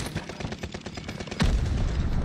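Rapid gunfire in a first-person shooter video game, a quick run of close shots followed by one heavier, louder blast.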